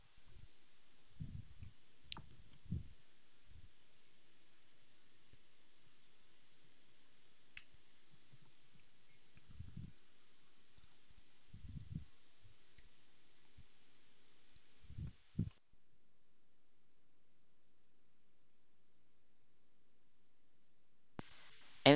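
Computer mouse clicks on an affiliate dashboard, a handful of sharp quiet clicks in small clusters spread across a near-silent background, followed by a stretch of silence.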